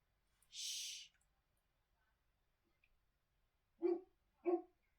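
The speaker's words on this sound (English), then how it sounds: "Oh no, he might be barking at a crow." Next door's mastiff barks twice in quick succession, distant and muffled, after a brief hiss in an otherwise quiet room.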